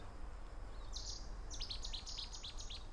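Songbird singing outdoors, a run of short bright chirps and trills starting about a second in and repeating busily to the end, moderately near over a steady low background rumble.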